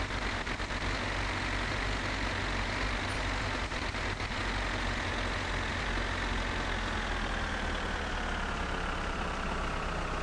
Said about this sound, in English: what with the rain and the engine noise and the wipers, I don't fancy putting the radio on as well